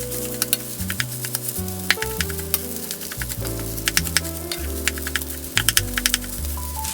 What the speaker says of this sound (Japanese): Primero freiré el arroz